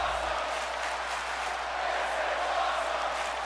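Wrestling match crowd cheering, a loud, sustained wash of roaring and cheering voices holding steady throughout.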